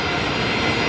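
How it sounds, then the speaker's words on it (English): An airliner arriving at Brisbane Airport roars as a loud, steady engine rumble, very close and alone, with no talk over it. "Don't want to miss the Air Callan coming in."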